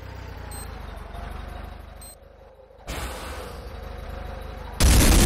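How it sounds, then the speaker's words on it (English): C4 explosive detonating in the video game Renegade, a sudden loud broadband blast near the end after engine rumble and a brief lull, close and forceful. "C4 is set. Fire in the hole!"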